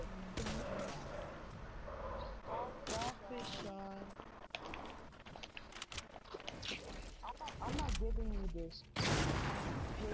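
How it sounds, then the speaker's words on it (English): Shotgun blasts ring out in a first-person shooter match, several sharp loud reports scattered among busy game effects, with players talking over the action. "Sean, stop using your shotguns."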